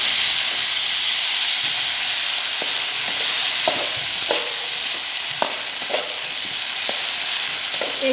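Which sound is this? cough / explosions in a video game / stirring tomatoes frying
stirring tomatoes frying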